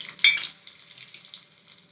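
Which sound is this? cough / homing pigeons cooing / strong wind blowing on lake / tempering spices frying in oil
tempering spices frying in oil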